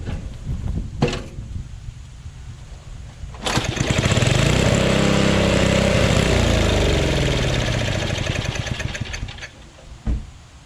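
A Yardman vac chipper's small gasoline engine starts up and runs at a steady, even roar without surging, loud and close, then cuts out after several seconds.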